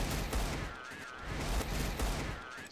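Rapid gunfire in Counter-Strike: Global Offensive, a dense, steady stream of shots at moderate level with no voices over it.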